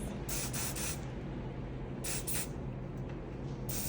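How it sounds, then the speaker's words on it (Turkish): Hair spray hisses from an aerosol can onto a bun hairstyle, a continuous close broadband spray lasting the full four seconds with slight surges, no voices. "Aynı şekilde buradan tekrar spreyimizi sıkıyoruz"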